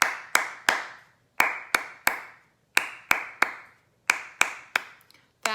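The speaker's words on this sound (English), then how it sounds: "You can clap or you can pat." Hands clap a rhythm during a children's music lesson, about fifteen sharp, close claps in short uneven groups with brief gaps between them.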